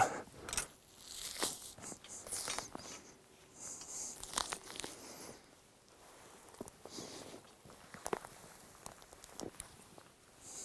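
A skinned bobcat's hide is peeled off the hanging carcass, producing irregular tearing, crinkling and crunching sounds with scattered sharp snaps, close and fairly quiet, with no talking.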